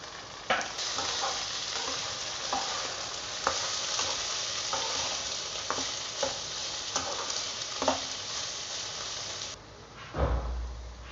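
Capsicum, French beans and sweet corn stir-frying in a pan, a steady close sizzle with repeated scraping stirs of a spoon, no talking.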